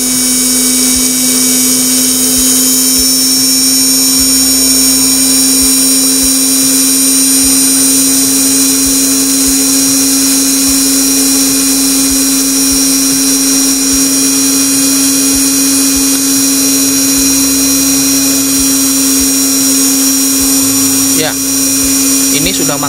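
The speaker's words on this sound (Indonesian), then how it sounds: "Motor ini bisa berputar dengan sangat cepat" An RS-540 Johnson 62850 DC motor runs flat out on a 6 V supply at about 2.9 A, giving a steady, loud, high-pitched whine with a strong constant hum that holds unchanged throughout.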